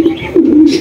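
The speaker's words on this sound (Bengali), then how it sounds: "আরো একজোড়া ব্লু শার্টিন কবুতর দেখতে পাচ্ছেন" A blue satin pigeon gives a short, close coo of two soft, low notes lasting under a second.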